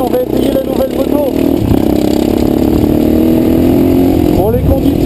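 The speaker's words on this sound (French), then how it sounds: "on va essayer la nouvelle moto" A new motorcycle rides across a wet meadow in the rain, its engine loud and close, revving up and holding a rising, buzzing note, with a voice speaking over it.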